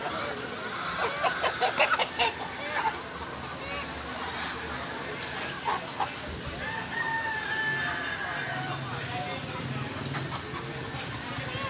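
Aseel roosters crowing and clucking amid a busy bird market crowd, with honking and voices bargaining over prices; a clear crow stands out midway over constant chatter and bustle.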